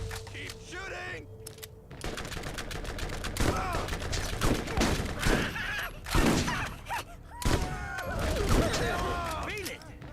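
Rapid bursts of gunfire from shooting in the video game Borderlands, repeated volleys over about ten seconds with weapon effects and whooshes, loud and close, with a voice speaking between shots.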